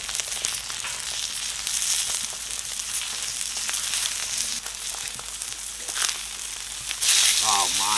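American and A5 wagyu beef steaks searing on a sear plate crackle and sizzle loudly and steadily up close, with faint voices underneath and a whistle-like tone near the end.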